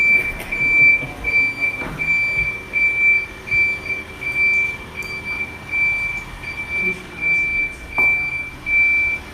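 A lorry reversing outside a meeting room, its reversing alarm beeping in a steady repeating rhythm, loud and continuous over engine rumble and background hum.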